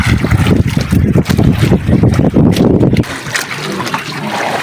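Large storm waves churn and splash around a boat at sea during a typhoon, a loud rushing wash with irregular surges that abruptly drops to a quieter gurgle of water partway through.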